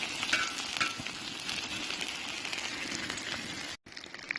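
Chorizo sausage and bacon frying on an outdoor cooking disc for a New Mexico breakfast, a dense, crackling sizzle that runs steadily and close, with a brief dropout near the end.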